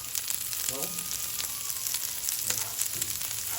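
Onions fry in a pan with a bright, continuous sizzle close to the microphone, steady throughout with small crackling bursts rising and falling.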